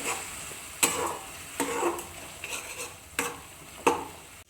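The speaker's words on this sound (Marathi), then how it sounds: "हे सगळं सोबत घालून घेते आणि छान मिक्स करून घेते" A spoon stirs chilli powder, salt and turmeric into a sizzling pan for shahi paneer, with several scraping strokes and light clinks at irregular intervals over a soft frying hiss.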